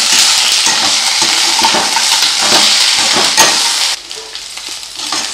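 Leaves and tamarind sauté in a hot pan for pirandai thuvaiyal, a loud, dense, continuous sizzle with occasional stirring scrapes that quiets slightly near the end, with no talking.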